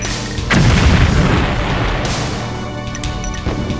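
A huge nuclear detonation in the real-time strategy game Dawn of the Tiberium Age: a loud deep boom slams in after a brief lead-in, then a long rumbling roar slowly fades, with no talking.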